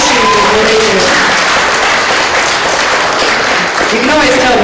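Audience applause at a talk about Palestine: a dense, loud wash of clapping from a crowd that runs steadily throughout without letting up.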